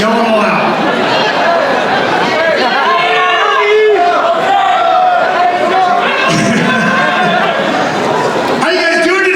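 A convention panel audience for Halloween Horror Nights at Midsummer Scream shouts and calls out names all at once, a dense, continuous roar of overlapping voices with rising yells and cheers throughout.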